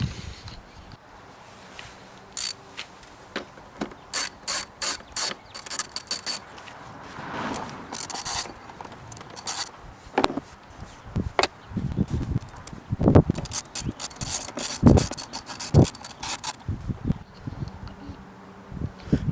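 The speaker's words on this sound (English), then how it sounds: "So you're just going to screw them out, and then you'll notice that this whole piece is going to come out." Screws come out of a Mercedes W140 climate control panel, giving scattered faint clicks, scrapes and small rattles from a screwdriver and plastic trim, close and intermittent, with no talk.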